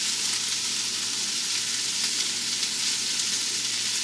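Seafood fries in a pan for a seafood boil meal, a steady dense sizzle and crackle holding level throughout at close range, with no talking.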